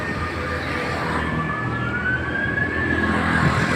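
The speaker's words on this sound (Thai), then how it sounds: "เสียงวอวอวอนี่คือรถโรงพยาบาลนะ" An ambulance siren wails, rising and falling steadily over a constant background rumble of traffic near a railway station in the morning, moderately distant, with no voices.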